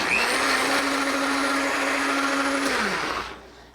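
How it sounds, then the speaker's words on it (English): NutriBullet blender whirring loudly as it blends chia pudding, a steady high motor whine held for about three seconds before spinning down and stopping. "just going to blend this up"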